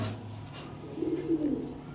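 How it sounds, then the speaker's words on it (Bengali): Soft, low Indian lotan pigeon cooing rises near the end, a few rolling coos over a steady background hum. "লোটন কবুতর ইন্ডিয়ান লোটন পেয়ারটা"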